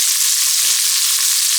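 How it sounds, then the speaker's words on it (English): Onions sizzle steadily in a pan with tomato paste, bay leaves, dried oregano and thyme for an oxtail stew, a loud, close, continuous hiss with no voices. "we're going to saute those for 3 minutes"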